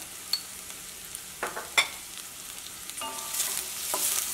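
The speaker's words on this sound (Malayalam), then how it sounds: "ഈ മഞ്ഞൾപ്പൊടി അത് കിടന്നിട്ട് നന്നായിട്ട് മുരിയട്ടെ" Turmeric powder frying with sautéed onions for an okra curry gives a faint, steady sizzle, broken by a few sharp spoon scrapes and taps against the pan.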